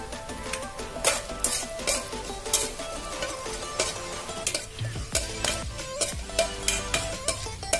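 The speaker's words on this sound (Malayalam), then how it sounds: "എണ്ണ ചൂടായിട്ടുണ്ട്. അതിലേക്ക് നമ്മുടെ പട്ട, കരിയാമ്പൂ, ഏലക്കായ ആൻഡ് പെപ്പർ ഇത്രയും ഇട്ട് കൊടുക്കാം." Whole cinnamon, cloves, cardamom and pepper sizzle in hot oil for a Nazrani-style vegetable stew, with a steady crackle broken by close, sharp clinks and scrapes of stirring in the pan.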